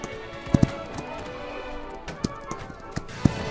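Horse hooves in Holdfast, a few sparse, fairly close clip-clop thuds spaced irregularly over a steady low background.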